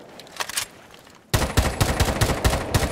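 Rapid automatic gunfire from Hibana's weapon in Rainbow Six Siege: a faint burst early on, then after a short pause a loud, sustained run of sharp shots firing in a fast, slightly uneven rhythm close by.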